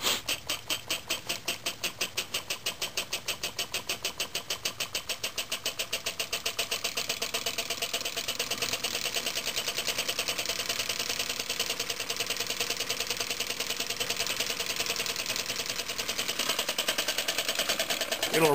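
A small homemade hobby engine runs with a fast, steady pulsing chug, its rhythmic beat close and even, wavering slightly in pace over time.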